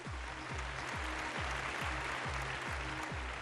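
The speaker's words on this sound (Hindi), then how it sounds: "जोरदार तालियों से स्वागत कीजिए" Steady broadband applause welcomes a contestant onto a talent show stage, continuous and dense under a pulsing bass music beat, no voices heard.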